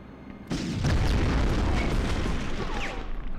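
Gunfire and a heavy blast in the PS1 shooter Medal of Honor during an escape from a V2 rocket plant, with a sudden loud boom that rolls into a sustained roar.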